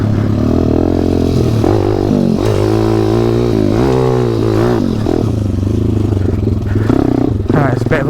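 A WPB 190 pit bike rides in first gear, its engine droning loud and close with rising and falling revs, plus clatter and rattle from the ride.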